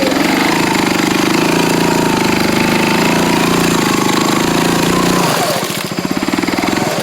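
A Honda off-road vehicle labouring over a rough, muddy spot, its engine droning loud and close with a rattling, pulsing tone that shifts and stutters near the end as it struggles.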